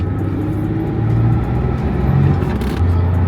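A V6 truck with a manual gearbox drives along, its engine humming in a steady low rumble that swells slightly as it revs, close and continuous without any talk.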